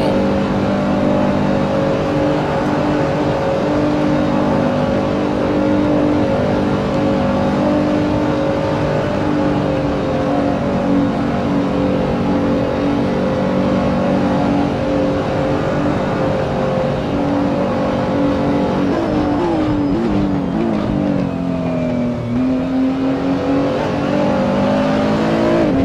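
A Nissan GT-R engine roars at full throttle around the Nordschleife in a racing video game. The loud, sustained engine note holds steady and then shifts pitch briefly near the end as the revs change.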